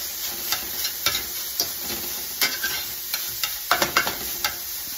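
Italian sausage frying in a pan while being crumbled and scraped: loud close sizzling punctuated by repeated sharp scraping strokes of a utensil against the pan, no voices.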